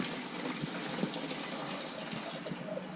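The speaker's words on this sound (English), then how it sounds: "We'll spill out a little bit. There comes a little bit." Water spilling and gushing out of a distillery still boiler, a continuous splashing flow heard close and at moderate volume.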